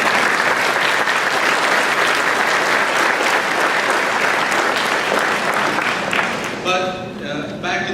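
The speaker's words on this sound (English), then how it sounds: "so give them a round of applause" An audience claps loudly and steadily in a school ceremony hall, applauding teachers at a Blue Ribbon award event, the dense clapping running throughout before thinning slightly near the end.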